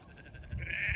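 A farm goat gives a short bleat close by. It rises into a nasal wavering cry near the end of a brief, quiet moment with no talk.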